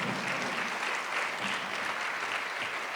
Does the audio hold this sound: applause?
yes